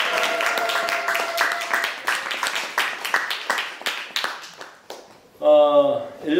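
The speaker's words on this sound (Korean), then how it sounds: "박수." A church congregation at a Thanksgiving service claps in a sparse, uneven patter of individual hands that gradually thins out, followed by a voice speaking at the end.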